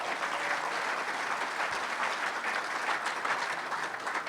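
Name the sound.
audience applause for sponsors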